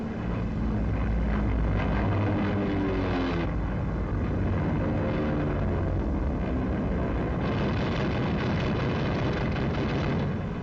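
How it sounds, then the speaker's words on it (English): Wartime aircraft chase in 1944, a continuous heavy roar of engine drone with rumbling low-end blasts and tonal whine shifting across it, dense and loud throughout with no voices. "An enemy aircraft is being chased."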